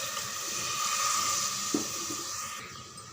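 Water splashes and streams steadily into a hot pan of sautéed tomato curry, a soft sizzling hiss running throughout with a brief clunk partway through.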